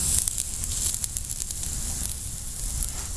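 A steak sizzling on an Expedition Research grill, a steady close crackle and hiss of searing meat that holds even and continuous with no voices.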